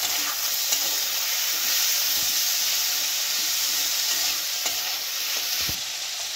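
Tomato and ginger-garlic paste sizzling with reddened fried onions and green chillies for khichuri, a loud continuous hissing fry with occasional stirring scrapes and clicks.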